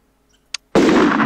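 A gunshot from the shooting game TH2003 comes as a single loud, sudden blast after a faint click, with a broad burst of noise that holds at full strength until the end.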